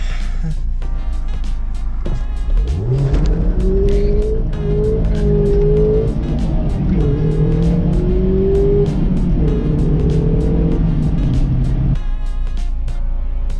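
A manual-transmission car engine revs loudly while driving, its pitch climbing and dipping through several gear changes over about nine seconds before settling to a steady cabin rumble.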